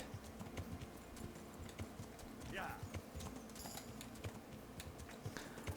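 Steady clip-clop of hooves in a quick rhythm, game-like and fairly quiet, with faint ambient noise and a brief chime partway through.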